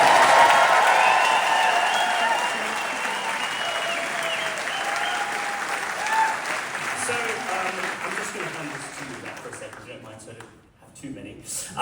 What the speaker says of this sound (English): Let's have a big applause for this amazing team of people.